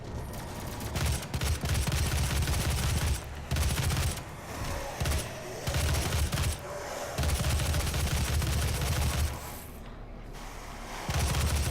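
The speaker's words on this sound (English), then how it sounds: "Oh, this is great, this battle rifle." Sustained automatic battle rifle fire in DOOM, dense and loud across most of the stretch, with short gaps between bursts and heavy booming impacts underneath.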